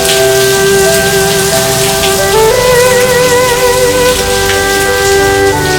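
Steady rain falls throughout, a dense, even wash of drops striking surfaces with no pauses. A sustained tonal layer that shifts pitch partway through runs beneath the rain, and no voices are heard.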